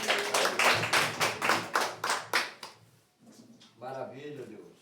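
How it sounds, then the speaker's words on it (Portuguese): A church congregation claps hands in a run of sharp, distinct claps that fade out after about three seconds, followed by a voice speaking. "Bate as palmas"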